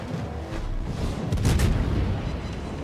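Naval guns firing from a Hindenburg cruiser in World of Warships, a single deep boom swelling midway through the clip over a steady rumble of engine and sea noise.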